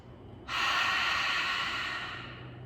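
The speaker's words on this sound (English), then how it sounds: "Now notice the force that you put behind that exhale" One long, forceful yoga exhale pushed out through an open mouth, a near, breathy rush that starts abruptly and fades slowly over about two seconds, with no talking.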